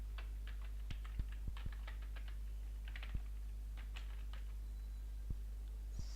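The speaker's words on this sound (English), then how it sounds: "type your URL" A computer keyboard clicks with sparse, irregular keystrokes, faint and close over a steady low hum, as a URL is typed.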